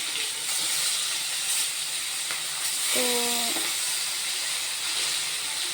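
Fried fish, turned over to cook its second side in a pan, gives a steady hissing sizzle throughout, with a brief tonal whine midway and a single spoken word.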